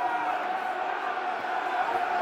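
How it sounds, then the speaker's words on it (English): Dense, steady roar of a football crowd at a Millwall home match against Leicester City, a broad continuous wash of many voices with a slightly rising swell, heard from within the stands. "Crowd are into it"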